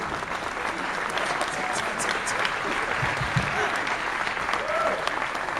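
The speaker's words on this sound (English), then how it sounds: "Big round of applause, please." Festival audience applauding an editor introduced at a film Q&A, a sustained, even round of clapping from a full house that continues without letup.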